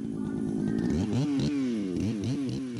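A chainsaw cuts a badly leaning tree, its engine loud and close with the pitch rising and dipping as it revs through the wood.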